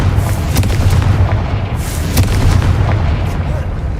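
A Confringo blasting spell goes off in Hogwarts Legacy with loud, dense booming blasts that rumble continuously, punctuated by sharper cracks throughout.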